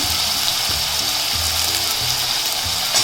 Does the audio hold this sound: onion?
yes